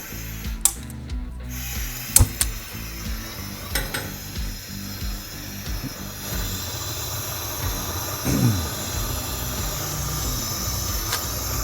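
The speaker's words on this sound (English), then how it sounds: "as you can see, it's pretty loud. It's a 1 million BTU burn, so this thing cranks some heat" A 1 million BTU burner firing up a mobile smoker loaded with oak wood, a loud steady roaring hiss throughout, broken by a few sharp metallic clicks and clanks, with no talking.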